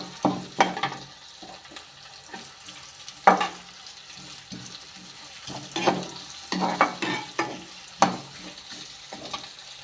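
Onions fry in hot oil in a pan while being stirred for a beetroot poriyal, a soft, steady sizzle broken by repeated scraping clicks of the spoon, close and moderately quiet.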